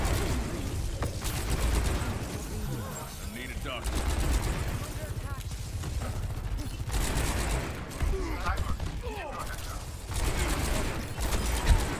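Rapid bursts of revolver fire from Cassidy fanning the hammer in Overwatch 2, clustered shots and mechanical clicks of a reload amid game noise, with a player talking over the action.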